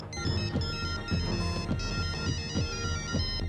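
A mobile phone ringtone plays loudly and continuously, a repeating melodic tone pattern with steady pulses, in a dubbed Hindi film scene, with no talking over it.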